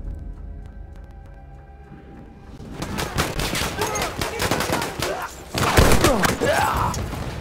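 Battlefield 1 Rush-mode gunfire: after a quiet start, rapid bursts of rifle and machine-gun shots crackle in dense volleys, loud and close, swelling to a heavier burst near the end, with faint talk underneath.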